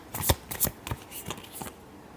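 Tarot cards being shuffled in quick bursts of riffling and slapping, about five short flurries close by, with no talk over them.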